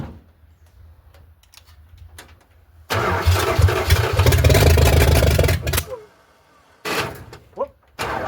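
A 1978 Dodge D-200 truck engine cranking loudly for about three seconds, falling quiet, then cranking again, with soft clicks and shuffling in between.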